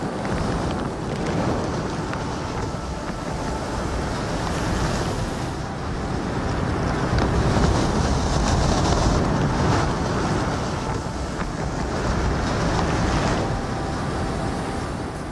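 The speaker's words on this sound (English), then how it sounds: "A storm blows in. A day of snow followed by 3 days of wind." Strong wind roars through a forest in a winter storm, a steady broadband rush that swells and eases in long gusts, loud and close with no voices.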